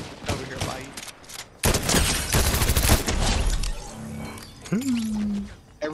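Dense bursts of video game gunfire from Mann bots combat, loud overlapping volleys with a sharp rising tone near the end, mixed with game effects.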